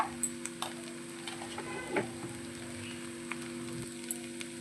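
Spice powders of garam masala, coriander powder and chili powder stirred in a cooking pan before potatoes go in, giving scraping scrapes and light taps with a soft sizzle underneath, close and steady, with no voices.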